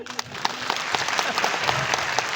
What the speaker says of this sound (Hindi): बजाओ अपने लिए ताली